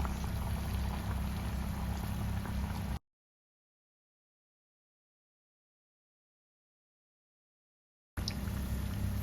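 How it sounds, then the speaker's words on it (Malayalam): Lentil fritters sizzle loudly in hot oil in a small pan, a dense bubbling hiss that drops out for several seconds before returning. "എണ്ണ ഒന്ന് ചൂടായി വന്നതിന് ശേഷം നമുക്ക് പരിപ്പടയ്ക്കുള്ളത് ഇട്ട് കൊടുക്കാം"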